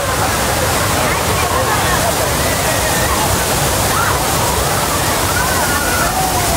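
Thirupparappu waterfall in Kanniyakumari district pours in a dense, steady roar of rushing, crashing water, loud and close throughout, with the faint babble of crowds of tourists beneath it.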